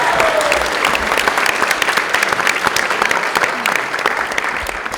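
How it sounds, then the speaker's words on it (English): Steady applause from a room of people at a New Year's party, dense and close with many hands clapping at once for five seconds, alongside a few faint cheers. "Let's give a round of applause for Nicole."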